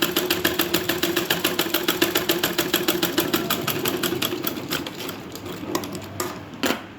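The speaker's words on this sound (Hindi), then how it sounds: "अब मैं इसे ऐसे करके इसके पास सिलाई लगा लूँगी पहले" Sewing machine stitching a blouse sleeve, its needle ticking in a fast, even close-up rhythm that gradually slows and stops near the end.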